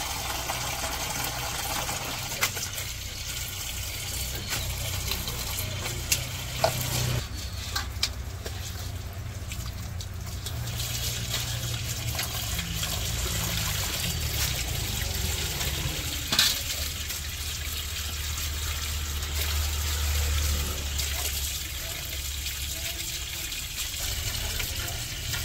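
Sandy pumpkin greens (pui shak) being rinsed in water in a village setting, giving a steady running and splashing wash that continues without pause for the whole stretch, fairly close and with no talk.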